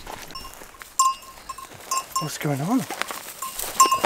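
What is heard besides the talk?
goats being moved to a new paddock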